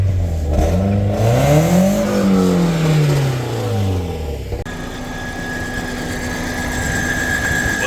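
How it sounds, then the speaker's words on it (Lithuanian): A Volkswagen Passat B5 engine runs steadily, first climbing and settling through a rev before dropping to an even, continuous idle hum with a faint high whine, close by and with no talk. "Variklis dirba gražiai,"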